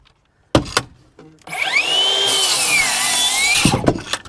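Metabo HPT power saw cutting wood blocking between studs: a couple of sharp knocks, then a whining motor spin-up and a brief loud cut lasting about two seconds before it winds down.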